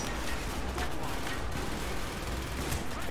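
Rapid bursts of automatic gunfire in the shooter Call of Duty: Black Ops, sharp cracks repeating densely over a few seconds, loud and close, with no speech over them.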